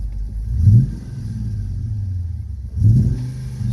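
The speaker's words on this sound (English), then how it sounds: "Still has a miss." A car engine idles roughly with a misfire, producing a low uneven rumble, with two heavier surges where it revs off idle.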